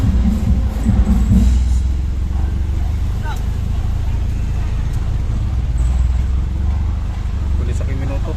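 Road traffic rumbles in a busy street at the Jollibee Dagupan grand opening, with car and motorcycle engines idling and passing at close range in a steady low drone, and voices talking over it.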